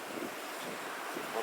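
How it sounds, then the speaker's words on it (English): Waves breaking on a pebble beach at a waterfall cove in winter in Scotland, heard as a steady, broadband wash with wind noise buffeting the microphone throughout and a slight swell near the end. "You got the beaches, the pebble waves crashing"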